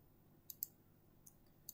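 Computer mouse left-clicking while tracing around a 3D dental model in dental planning software, several faint, sharp clicks at irregular intervals over a quiet background hiss.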